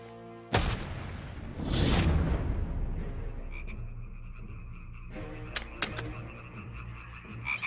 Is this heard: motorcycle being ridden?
no